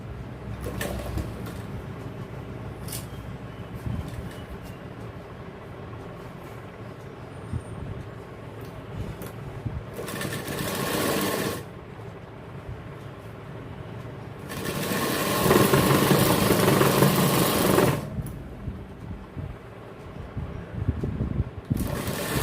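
A sewing machine runs in two bursts while topstitching around a jacket, each a steady mechanical whir lasting a couple of seconds, with quieter workshop hum and handling noise in between.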